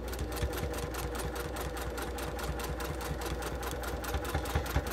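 A sewing machine stitches slowly around a bulky corner of a sewing project, a close, rapid, even mechanical chatter of needle strokes running continuously throughout.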